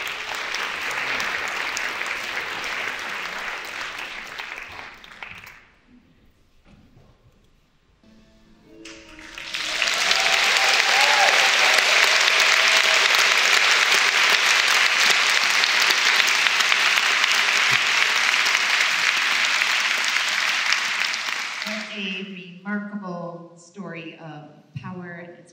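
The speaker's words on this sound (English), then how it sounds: "Just one more round of applause for that." An audience at a screening event applauds loudly and steadily for over ten seconds after a shorter earlier burst of clapping, then fades as a speaker begins talking.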